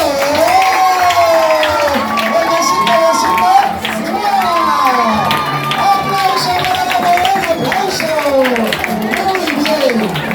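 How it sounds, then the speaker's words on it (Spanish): Crowd at a church celebration of the Ngäbe-Buglé community claps and cheers, with shouting voices and whoops riding over a continuous wash of applause, loud and close. "¡Aplausos!"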